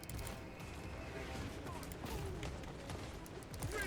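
Army volley gunfire in a video game, troops shooting downhill: a dense, continuous crackle of overlapping shots with metallic clatter, rolling on without pause at a moderate level.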